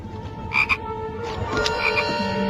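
Frog croaks from a novelty magic-themed toy or sweet box, a few bursts rising over steady background noise, fairly loud and close with no talk.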